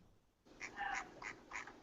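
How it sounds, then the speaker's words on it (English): A duck quacks faintly in the distance, a short run of four or five nasal quacks about a second long, alone and with no talking. "why do I hear ducks?"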